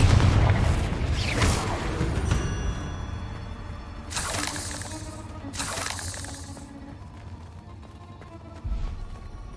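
Confringo spell blasts in Hogwarts Legacy, two loud bursting explosions a couple of seconds apart with crackling debris, following earlier rumbling impacts, with a softer thud near the end.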